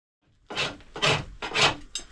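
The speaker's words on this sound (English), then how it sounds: "When I shave the shingles, I make sure to keep a taper." Hand-split wooden shingles shaved with a blade, three distinct rasping strokes in quick succession, fairly close and moderately loud with short pauses between.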